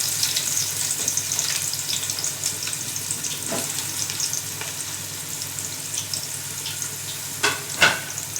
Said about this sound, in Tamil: இப்போ இந்த 200 கிராம் இந்த வெங்காயத்தை இதில் சேர்த்துக்கலாம்.